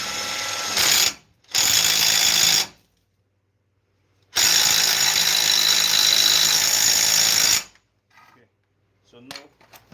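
Ratchet wrench tightening a front suspension part on a 2013 Nissan Rogue, with two short bursts of rapid clicking followed by a longer steady run of dense, close ratcheting, then quiet with faint handling noises.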